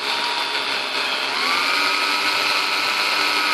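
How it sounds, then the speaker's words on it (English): Cordless power drill running low on battery, a steady whirring motor whine that shifts slightly in pitch, close and loud with no voices, used while repairing a vintage Royal 10 manual typewriter. "That sounds like my drill's running out of juice."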